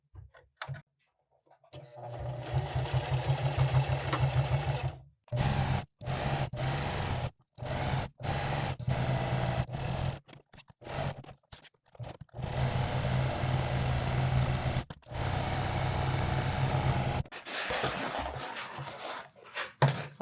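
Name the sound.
sewing machine stitching Velcro and webbing onto fabric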